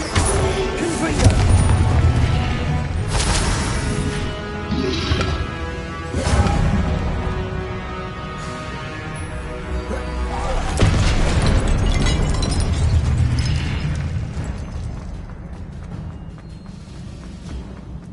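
Blasting spell explosions in Hogwarts Legacy, a series of heavy booms and crashes spread across a long stretch with rumbling tails and debris, mixed with game sounds and occasional voices.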